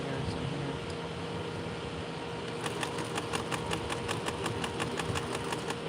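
A sewing machine hums steadily while stitching the waistband of denim jeans, then speeds into a rapid even needle clatter partway through, close and continuous.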